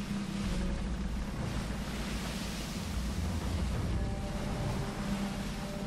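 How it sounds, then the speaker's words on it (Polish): Waves surge and wash steadily in the Battlefield Bad Company 2 video game, a continuous broad roar of surf and wind around a boat at sea, with no voices. "fale biją jak tralala"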